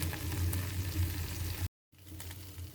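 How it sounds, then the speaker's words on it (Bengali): Stinging catfish (shing fish) frying in a pan, a steady loud sizzle with a low bubbling hum, cut by a brief silent gap before the sizzling resumes slightly quieter. "ভাজা হয়ে গেলে আমি ফিরে আসবো"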